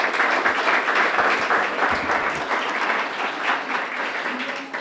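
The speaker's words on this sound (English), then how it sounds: "give a round of applause to Bob Saltzman, the alumni coordinator, and our president, Carl Anderholm" Audience applause at a Brockton High School alumni association awards ceremony, steady dense clapping from a crowd held at an even level throughout, with no voices over it.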